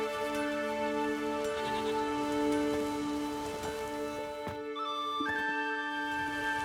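Steady rain falls in The Witcher 3: Wild Hunt, a continuous hiss of drops on surfaces under sustained game music tones, with no voices.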